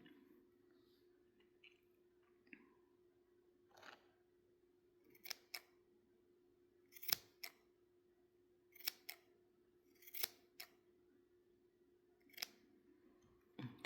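Scissors snip through the loose ends of a yarn tassel for an earring, a series of sharp, close, isolated cuts spaced a second or two apart over a quiet background.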